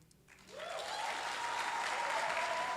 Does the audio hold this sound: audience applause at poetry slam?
yes